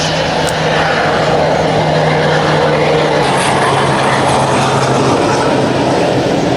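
A tiny propeller hopper plane on a short island flight in St. Barts drones loud and steady, its engine hum filling the air overhead with a constant broadband roar.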